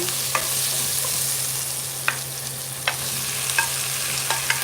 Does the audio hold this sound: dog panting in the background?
no